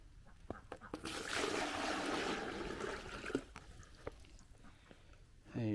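Water pours and trickles steadily into a chicken water feeder for a few seconds among soft clicks and knocks, ending with a brief low thump.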